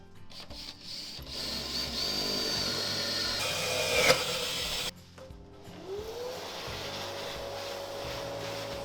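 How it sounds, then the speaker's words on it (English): A power drill bores a hole into a wooden drawer, its motor whining steadily at close range for several seconds before stopping abruptly, followed by a lower winding-down hum. "I pull it out before I drill this hole"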